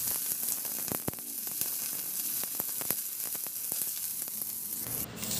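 Garlic sautés in hot oil in a pan, giving a steady, close sizzle broken by sharp crackles and pops, with no talking.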